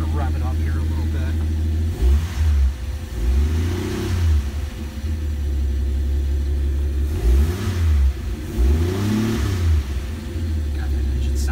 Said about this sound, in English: I'm going to rev it up here a little bit